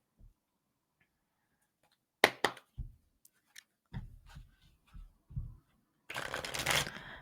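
Power of Surrender oracle cards by Judith Orloff being shuffled in a quiet room: scattered soft taps and clicks, then a sustained riffling burst near the end.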